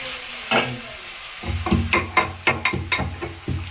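Spices and vegetables fry in hot oil with chilli and garlic, crackling sizzle broken by repeated rhythmic scraping strokes of a spoon stirring the pan, close and fairly loud.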